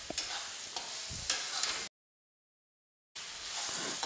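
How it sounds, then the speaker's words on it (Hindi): Green peas frying in a pan with tomato masala: a close, steady sizzle with a few spatula scrapes and knocks, cut by a gap of silence before the sizzle returns. "अब डालेंगे हम इसमें मटर, थोड़ा मटर को भून लेते हैं"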